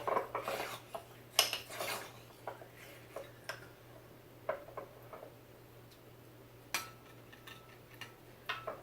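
A utensil mixing dumpling dipping sauce with chili oil in a small dish: quiet, irregular clinks and taps of metal against the bowl over a low steady hum, with no voices.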